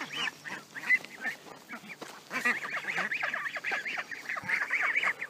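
A flock of herded farm ducks quacks busily up close, with many overlapping, rapid calls forming a continuous chattering chorus and no speech.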